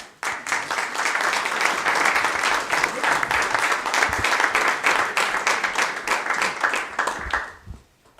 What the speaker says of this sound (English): Shall we give them a clap?